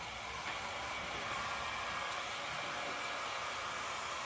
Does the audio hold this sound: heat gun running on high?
yes